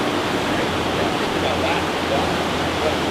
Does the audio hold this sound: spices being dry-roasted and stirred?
no